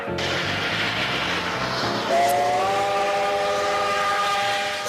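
A steam train rolling along with a chugging rumble, then a loud, sustained steam whistle blows with a steady multi-tone wail over the running noise until the end.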